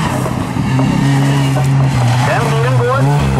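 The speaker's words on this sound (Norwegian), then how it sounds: "Den bilen går som man skal." A rally car races past on a gravel special stage at Rally Hedemarken 2016, its engine note rising and falling loudly close by while a commentator talks over it.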